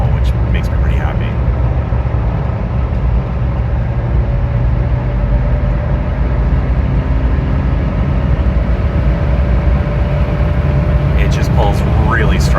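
A 1994 Saab 900 Turbo convertible accelerating, a steady low engine drone and road rumble heard from inside the cabin, holding strong throughout, with someone talking over it.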